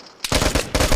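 Rapid PKM machine gun fire in the shooter game Vigor, two loud close bursts of fast automatic shots separated by a brief pause, with no talk over them.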